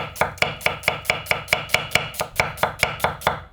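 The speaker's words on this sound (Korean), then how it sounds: "양파를 그냥 다른 거 없어요. 아주 곱게 편썰게 했어요." A knife chops steadily through tender new-season onion on a cutting board, about fifteen crisp, evenly spaced strokes, close and clear with no talking.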